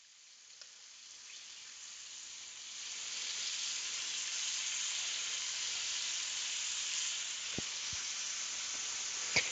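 Country ham sizzling in an iron skillet, a steady loud hiss of frying fat with occasional sharp pops and crackles, close and continuous with no talking.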